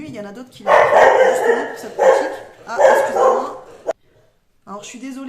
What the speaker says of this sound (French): du coup ça fait aboyer mon chien